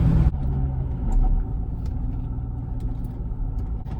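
A 2005–2009 Ford Mustang GT engine rumbles steadily at a low idle, a deep throaty drone with slight fluctuations, heard up close with no one speaking.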